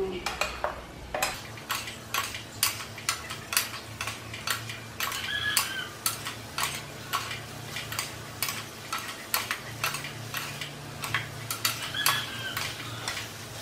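A metal spatula scrapes and clacks rhythmically against a pan while flour is stir-fried into a Cambodian chalok dish with young pepper, quick repeated strikes over a soft continuous sizzle, close and fairly loud.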